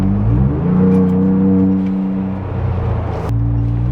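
A 2021-or-later Ford Bronco fitted with a Turbosmart blow-off valve accelerates, engine rising in pitch through gears from inside the cabin, ending with a sharp turbo whoosh as the throttle lifts, loud and with no talking.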